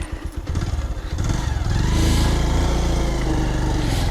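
A motorcycle engine runs while being ridden on a rough road in the rain in Nepal, idling low at first, then swelling into a loud, steady drone as the revs climb and hold.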